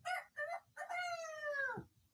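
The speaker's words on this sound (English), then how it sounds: "The rooster goes" A single rooster crow, close and clear: two short notes followed by a long drawn-out call that falls away at the end.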